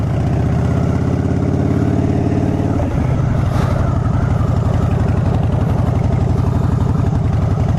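Loud, steady exhaust rumble from an engine with its baffles removed, idling deep and throaty up close and never letting up.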